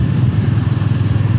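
Honda GB 350 S motorcycle engine while riding, a loud, steady low-pitched thrum with an even pulsing rhythm, close up and without talk.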